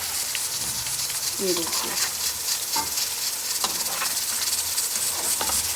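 Koftas fry in oil with a steady, close sizzling hiss and occasional soft pops and stirring sounds. Someone speaks briefly over the frying.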